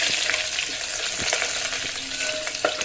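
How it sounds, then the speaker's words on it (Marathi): Ginger garlic paste roasts in hot oil for a spicy goat-head curry, a continuous near frying hiss with a few scrape-like stirring clicks, no voices over it. "त्यानंतर आलं लसूणची पेस्ट एक चमचा घेतलेली आहे ती पण आपण तेलामध्ये भाजून घेऊया"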